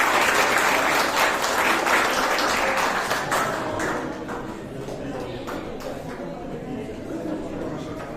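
A crowd applauds steadily at a student certificate ceremony at a science, engineering and technology summer camp, the clapping loud at first and then easing to a softer, continuing patter.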